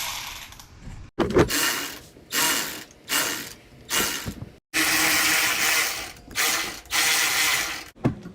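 A socket ratchet loosens spoiler bolts on a Porsche 911 (991 Carrera), clicking close and clear in about eight separate bursts of rapid ratcheting with brief gaps between strokes.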